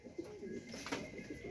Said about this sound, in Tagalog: Ito mga kalapatids,